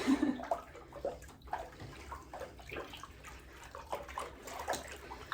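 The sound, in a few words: rinsing an old cross stitch in running water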